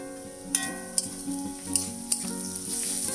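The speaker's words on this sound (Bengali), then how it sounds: "চার 5 মিনিট ভাজার পর দিয়ে দিচ্ছি 1 চা চামচ রসুন বাটা।" Onions and garlic paste frying in a pan for a Bengali mutton and potato curry, with a soft continuous sizzle broken by four sharp spoon taps against the pan, and quiet music underneath.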